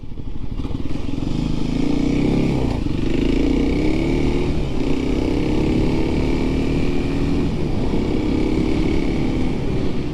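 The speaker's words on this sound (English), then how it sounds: "this bike is pretty new. Still at 260 miles, so it's still breaking in a little." A new, still breaking-in motorcycle engine drones steadily at close range while riding a muddy trail, with continuous rumble and wind noise throughout.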